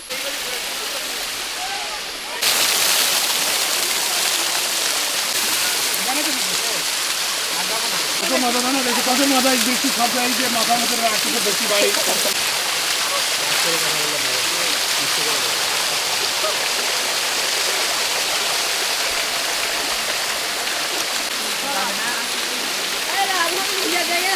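Water rushes loudly down the Sticky Waterfalls in Chiang Mai, a continuous close roar that starts abruptly after a quieter opening, with people talking over it.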